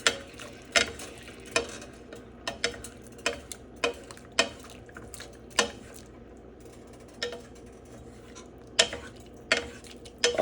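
Lemon chicken sizzles softly in a pan of sauce while being basted, with a steady low fry under a series of sharp scraping and clinking strokes of a utensil against the pan, close and irregular.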